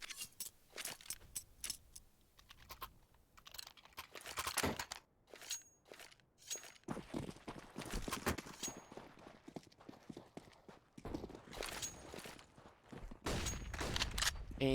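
Counter-Strike gunfire on the Dust 2 map during an NRG versus Mythic esports match: dense bursts of rapid shots and clattering impacts come in rolling clusters, loud and close, with no voice over them.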